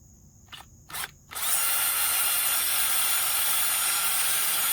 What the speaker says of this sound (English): So I'm just going to drill some holes in it so I can strap it down